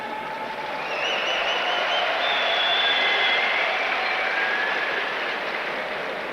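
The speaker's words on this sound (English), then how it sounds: "Well, a big cheer for this man." Crowd at a 1999 world weightlifting championship cheering and applauding a 62 kg lifter from Belarus, a broad roar of clapping and cheering that swells and holds steadily, with whistles riding on top.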